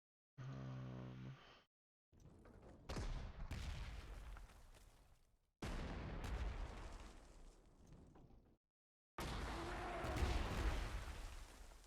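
Artillery shells land in the WWII strategy game Panzer Corps 2 as three heavy, booming blasts, each rumbling out before a short silence, after an opening tonal sound.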